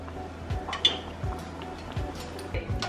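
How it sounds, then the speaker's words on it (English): Boiled cabbage cooking water being strained off in a kitchen, a loose trickle and splash with a few soft clinks of a pot, moderately close and without talk. "It's time to take it out and strain this water."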